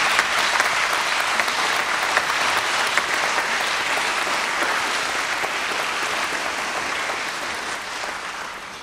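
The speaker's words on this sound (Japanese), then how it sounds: "Please once again give a big applause to all the prize winners." Sustained applause from a large crowd at a piano competition award ceremony, dense and steady, slowly fading slightly toward the end.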